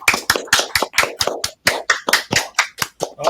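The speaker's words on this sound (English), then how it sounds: "I mean, applaud." Small audience clapping on cue in a live comedy setting, sharp individual claps in an uneven, sparse rhythm, close and fairly loud, without talk.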